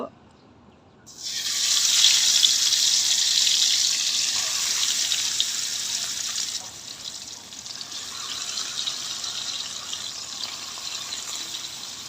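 Tatkini fish added to hot oil in a wok, a sudden loud sizzle that surges up after a quiet start, then settles into a steady hiss which eases slightly partway through.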